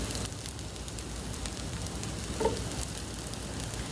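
A tortilla shell for vegetable quesadillas sizzles on a grill with a steady, soft crackling hiss, fairly faint and unbroken, with one small pop near the end and no voices.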